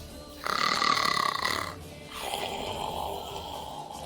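A voice imitates an elk snoring after being knocked down: a loud, rasping snore-like drone, then a second longer, rougher breathy snore, with no words spoken.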